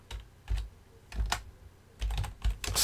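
Keys clatter on a computer keyboard in short, uneven bursts of typing, close and fairly loud with no voices over them.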